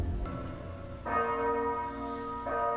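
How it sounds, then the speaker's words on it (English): Church bells ring out in Game of Thrones, a few distinct tolls with sustained ringing tones in a tense scene, loud and clear, no talk. "Ring the goddamn bells."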